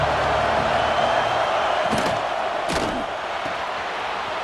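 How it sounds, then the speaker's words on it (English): A stadium crowd in the EA Sports College Football 26 video game roars in a loud, continuous wash of noise, broken by two sharp thuds. "This crowd ready to make its presence known."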